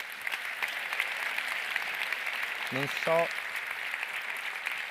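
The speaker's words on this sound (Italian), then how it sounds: "questo applauso spero vi arrivi" Applause at the Premio Terzani 2023 award ceremony in Udine, steady moderate clapping from the audience, with a brief tonal sound near the end.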